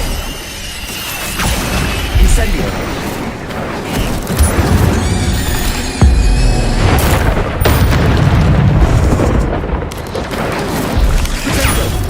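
Incendio fire spell explosions in a video game, a loud run of booming blasts and crackling fiery bursts that keep rolling over each other for the whole stretch, with no pauses between them.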